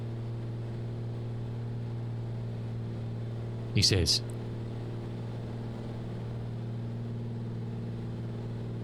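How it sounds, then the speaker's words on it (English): Simulated Commander 114 piston engine from Black Square in Microsoft Flight Simulator 2024, recently showing fuel-flow fluctuations, holds a steady, even drone throughout, with a brief spoken phrase cutting in midway. "I mean, the engine tone definitely changed, didn't it?"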